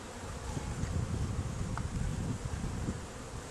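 A dense, continuous hum of many honeybees buzzing close by in an open, queenless hive with excess drones, steady throughout with faint wind noise underneath.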